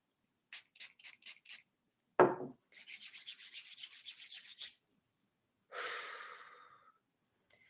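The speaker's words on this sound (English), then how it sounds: "Let's rub your hands together until they are too hot to touch." Hands rubbing together briskly, close and dry: quick bursts of rapid back-and-forth strokes separated by pauses, with a sharp breath-like swish and a longer fading rub near the end.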